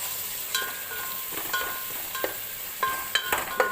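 Tomato and mint frying in a pan for Kerala-style dum biryani, with a steady soft sizzle broken by several sharp clinks and scrapes of a stirring spoon against the pan.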